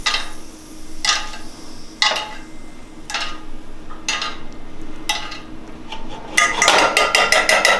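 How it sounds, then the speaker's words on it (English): A spoon clinks sharply against a pan about once a second while basting pan juices over a steak, with a soft sizzle underneath and a quick flurry of scraping taps at the end. "Gonna give our pan a swirl. We're just gonna spoon that over our steak here."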